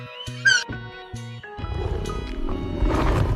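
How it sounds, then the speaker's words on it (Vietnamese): A tiger roars loudly and alone, a deep rumbling growl building and holding to the end, preceded by a few short tonal synthetic musical notes. "Con hổ."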